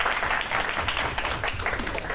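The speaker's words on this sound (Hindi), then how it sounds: "तो एक बार फिर जोरदार तालियां गौतम और नमन के लिए।" Studio audience applauding on a live TV mind-reading show, a short burst of dense, even clapping from many people that holds steady throughout.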